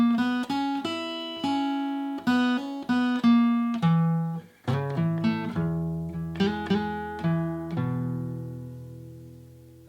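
Electric or acoustic guitar playing a riff, a run of plucked notes and chords in a steady rhythm with ringing sustain, clear and close with no voice over it.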